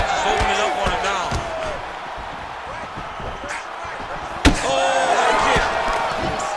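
Punches thud and slap in a simulated UFC 5 bout, a run of dull impacts with one sharp, loud smack near the end, under continuous excited commentary and crowd noise.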